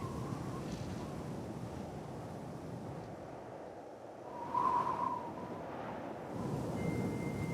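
Wind rushes and gusts steadily against the microphone in snow leopard country in Tibet, a low rumbling roar with a faint whistle rising midway.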